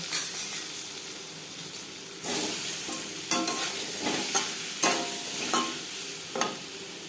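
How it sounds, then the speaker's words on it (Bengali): Duck eggs frying in mustard oil with turmeric and salt, a continuous close sizzle broken by several sharp spatula scrapes and pops, with no voices. "সবার প্রথমে ডিম ভেজে নেব।"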